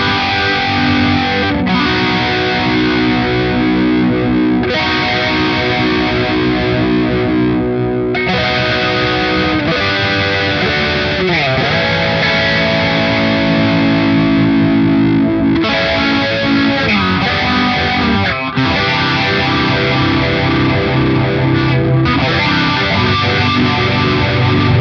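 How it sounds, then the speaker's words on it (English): An electric guitar runs through a Primo amp simulator with a phaser, giving a dense, loud, continuously swirling distorted tone as chords and riffs play steadily for about twenty-five seconds. "That's a nice sounding phaser too"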